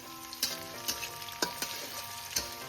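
Chopped onions fry in a pan as they are browned, giving a steady, soft sizzle broken by several sharp clicks and scrapes from stirring.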